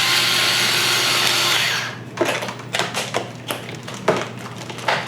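A Ryobi USB power cutter slices through plastic, a steady motorized whir for the first two seconds, then broken into a run of uneven, crunchy cutting bursts close to the mic.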